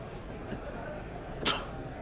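A single sharp sneeze bursts out once near the middle of a quiet indoor stretch during a live Dice Masters tabletop tournament broadcast, brief and fairly loud against low room noise.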